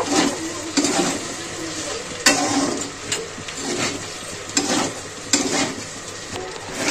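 Pasta with ground black pepper being stirred and mixed in a pan at close range, giving scraping, clattering bursts against a soft sizzle, with no talk.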